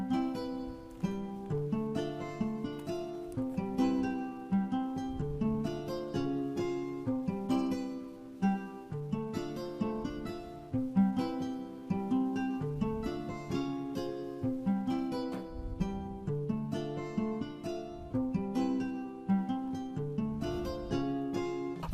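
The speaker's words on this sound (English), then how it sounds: "Alright, so we're going to put in a Midi into this Vinyl Guitar and see the way it sounds." Vinyl Guitar software instrument played from MIDI: a steady, quiet stream of plucked guitar-like notes and chords in a repeating rhythmic pattern, with no voices.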